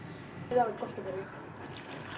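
Vegetables for khichuri (cabbage, eggplant, potato, pumpkin) being washed in water, with a brief close splash and trickle amid light background noise, and a voice speaking.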